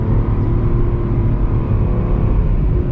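A 2020 Nissan with a CVT transmission accelerating under light throttle, giving a steady, droning engine hum with held revs that stays constant and close throughout, with no talking.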